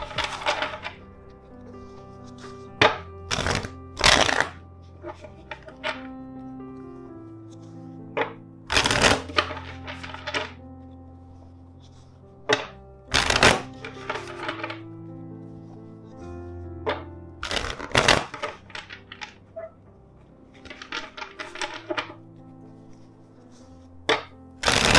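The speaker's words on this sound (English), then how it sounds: "let's shuffle the deck four times for you." A tarot deck riffled and shuffled in sharp bursts, several rapid crackling flurries separated by quieter pauses with soft tapping, close up.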